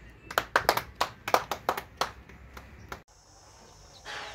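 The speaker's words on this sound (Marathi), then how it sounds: "टाळ्या वाजवा." A small audience claps at an event honoring an orphan girl: a burst of sharp, close hand claps in a loose rhythm that thins out and stops, followed by quieter room noise.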